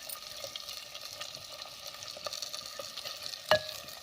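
Tomatoes and vegetables for a traditional winter millet (bajra) khichdi are sautéed in a pan. A soft, steady sizzle runs under light stirring scrapes, with one sharper clink near the end and no speech.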